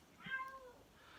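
A single clear meow from a house cat, close and moderately loud against a quiet indoor background.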